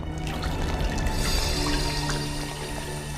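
Steady water pouring and dripping down from above inside a house, a continuous liquid splashing and trickling that stays loud and fills the whole short stretch without any talking.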